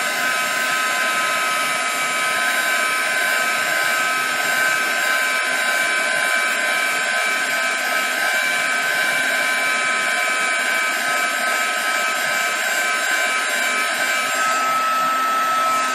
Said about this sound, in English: So that's the heat gun.